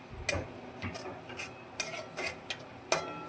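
Onion frying in oil with cumin and curry leaves in a pan sizzles lightly under sharp spoon scrapes and clinks against the pan, several irregular hits over a low crackle.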